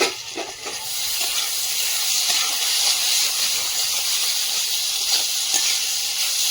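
Steam hisses from a pot of cumin shukto cooking over a wood fire as the lid comes off, a steady broad hiss running throughout with no talk.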